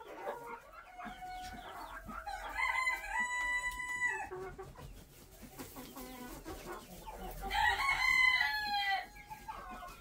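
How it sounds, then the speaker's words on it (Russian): Roosters crow in a farm pen, two drawn-out cock-a-doodle-doo calls a few seconds apart, loud and close, with soft clucking and other fowl noise between them. "Ну, давай, кукареку, все вот там поют, и ты давай за компанию."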